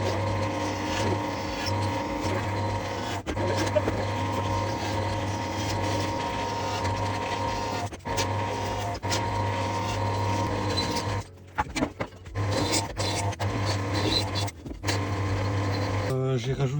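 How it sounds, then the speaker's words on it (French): A drill bores holes in sheet metal for a homemade pellet basket, its motor humming steadily up close and loud, with the whir breaking and restarting in short bursts toward the end. "Et comme ça, j'ai plus qu'à percer."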